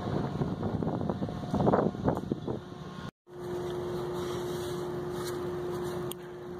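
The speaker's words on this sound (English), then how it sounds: "Whew, that breeze though." An outdoor breeze on a warm day at a job site in San Antonio: gusty wind buffets the microphone with a rushing rumble for about three seconds, then after a brief cut a steady hum with a faint tone takes over.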